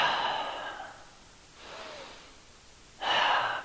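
Deep breaths during a yoga class: a long audible exhale, a softer breath, then another strong breath, all close and unaccompanied by talk.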